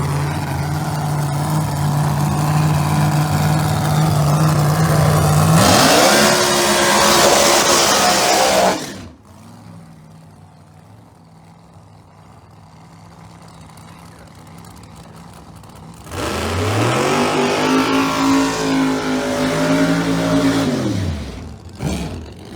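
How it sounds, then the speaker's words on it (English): A Pro Mod drag race car with a Fulton-built nitrous engine revs loudly at a dragway qualifying session. Booming revs rise and fall, drop to a quieter rumble, then surge again. "Let's see what the world champ's got over there in a Fulton powered nitrous machine."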